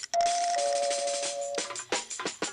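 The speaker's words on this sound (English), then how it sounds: "Answer the doorbell." A bright electronic doorbell chime rings out as a sustained tone, followed by a few sharp percussive knocks or clicks near the end.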